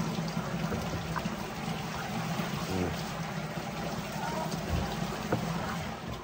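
Shower water at a hot spring in Sorsogon, Philippines, pours and splashes steadily in a continuous broadband rush, with faint voices mixed in beneath it.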